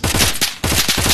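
Loud, rapid automatic AKS-74U fire in the VR shooter Contractors VR comes in two dense bursts split by a brief pause, close and continuous with no voices.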